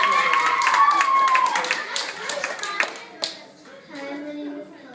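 Short burst of audience clapping at a school play in a classroom-style room, hands tapping fast and close, fading out as a voice and other chatter come in.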